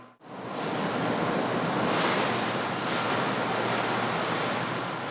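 Artificial storm waves, scaled to a 6 m typhoon wave height, surge continuously over a 1:50 scale-model concrete breakwater in a wave tank, a steady loud roaring wash with swelling crests and no voices.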